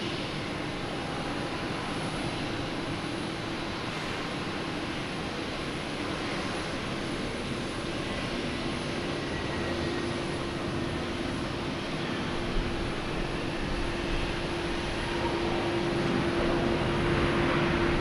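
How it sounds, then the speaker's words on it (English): A JetBlue Airbus A320 and a United Boeing 737 MAX 9 landing at Boston Logan make a steady, distant jet engine roar that holds at a moderate, even level throughout, with no voices. "JetBlue coming in from Orlando and United coming in from San Francisco. JetBlue is an A320, United is an 737 MAX 9"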